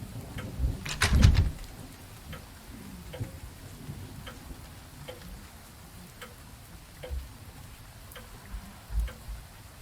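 A clock ticks inside the video game Last Days of Lazarus, soft regular ticks repeating roughly once a second over a low ambient hum, with a louder thump near the start.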